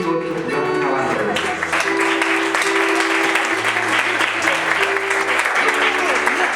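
Wedding guests in Cantel, Guatemala applaud loudly to send off a couple, a thick, sustained roar of clapping with music or sustained tones running underneath.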